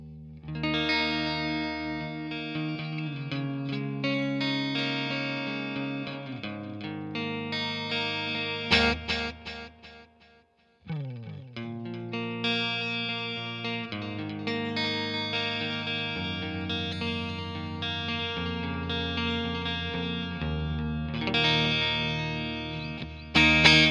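Sustained electric guitar chords and notes soaked in chorus, distortion and BOSS compact delay effects, played alone with a short gap midway.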